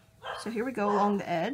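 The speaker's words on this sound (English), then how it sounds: "Please excuse my dog barking in the background if that's actually picking up" A dog barks and yips indoors behind someone speaking, several short tonal barks in quick succession partly under the talk.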